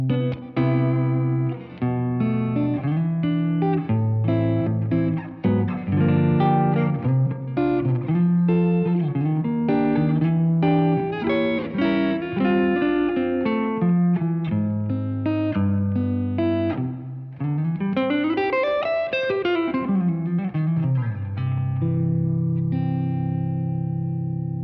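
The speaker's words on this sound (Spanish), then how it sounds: "Bueno, pues la reverb no está mal." An electric guitar plays through a Walrus Audio Fundamental reverb pedal, with sustained notes and chords washing into a spacious reverb tail, loud and continuous with a sliding phrase near the end.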